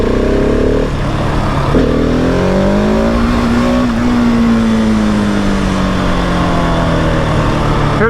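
A 2020 Husqvarna 701 SM single-cylinder motorcycle engine pulls a second-gear clutch-up wheelie, a loud close roar revving up, dipping briefly, then holding a steady rising drone for about eight seconds with no talk.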